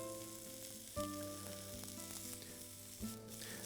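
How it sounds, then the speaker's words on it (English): A beef fillet sears with spices in a hot pan, a soft, steady sizzle with a couple of brief clanks or knocks from the pan, quiet and continuous with no voices. "we're searing in those spices on each side of the beef fillet"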